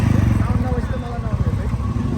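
A fully restored motorcycle fitted with a megaphone exhaust idles with a deep, throbbing low rumble, loud and close, while people talk over it.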